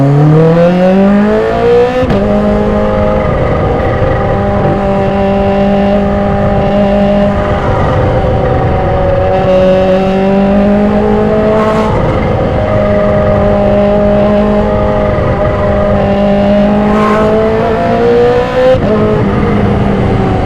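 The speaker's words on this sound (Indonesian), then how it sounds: "Enak bro, suara knalpot jambu." A supercharged 2015 Kawasaki H2 motorcycle with a modified exhaust accelerates hard through repeated gear changes, its loud engine note climbing in pitch, dropping at each shift, and climbing again.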